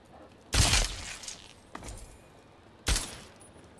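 Gunfire in the video game Fallout 3: two sharp, loud shots about two seconds apart, each with a short crackling tail, and a fainter pop between them over quiet ambience.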